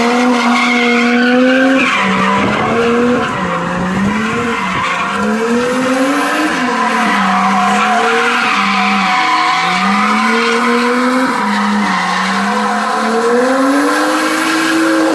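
A Volvo fitted with an angle kit and coilovers spins donuts, its tires skidding and squealing in long wavering howls over a steady, loud engine drone, with no talk.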